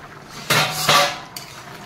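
A metal lid lifted off a pot of ghugni made with dried peas, two sharp clanks close by followed by a lighter clink as the pot is handled.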